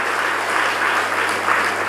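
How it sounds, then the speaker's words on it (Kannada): A seated audience at a Kannada religious discourse at a math in Belagavi claps loudly, a dense, even wash of many hands that holds steady and fills the whole short stretch. "ಒಮ್ಮೆ ಜೋರಾಗಿ ಚಪ್ಪಾಳೆಯನ್ನು ತಟ್ಟುವಂಥ ಪ್ರಯತ್ನವನ್ನು ನಾವು ಮಾಡಬೇಕಾಗ್ತದೆ"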